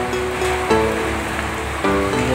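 Steady rain falls and patters on a hard surface outdoors, filling the scene as a continuous hiss, with a couple of brief tonal clunks and no speech.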